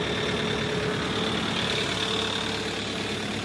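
A Kubota MU-series tractor engine idles at about 900 RPM, a steady, even diesel rumble held at a constant pitch, close and unchanging throughout.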